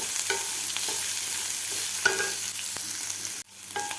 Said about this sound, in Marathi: कांदासुद्धा आपल्याला दोन मिनटासाठी व्यवस्थित परतून घ्यायचा आहे मिडियम गॅसवर